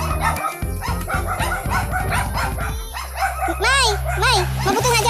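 A dog barks and yips in quick bursts, with whiny, rising yelps toward the end, mixed with people talking over it.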